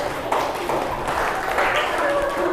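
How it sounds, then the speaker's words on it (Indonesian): Students in a classroom applaud a group of classmates after their presentation, a busy, continuous patter of clapping at fairly close range, with some voices mixed in. "Boleh tepuk tangan?"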